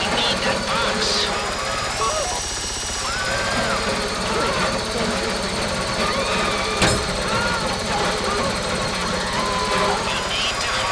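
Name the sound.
heist drill running in GTA Online video game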